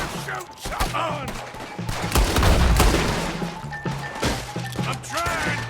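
Rapid gunfire and crashing impacts from a Red Dead Redemption 2 shootout, bursts of shots cracking close and loud amid shouted voices.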